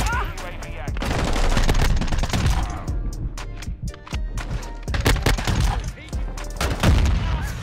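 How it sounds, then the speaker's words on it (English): Rapid bursts of SMG gunfire in Modern Warfare 2 crackle loudly and almost continuously, with short breaks between strings of automatic shots and game effects mixed in. "this thing is just an SMG now"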